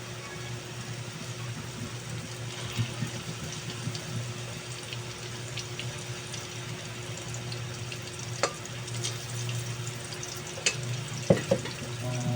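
Eggplant frying in hot oil in a pan for talong sisig, a steady low sizzle with occasional stirring clinks and scrapes, no talking.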